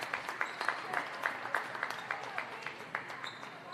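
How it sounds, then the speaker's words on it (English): Scattered clapping from a modest crowd of fans in the stands at a women's basketball game, steady and fairly close, with light cheering in the background. "Big applause here from the fans in the stands as Gortmaker has really been playing her hea"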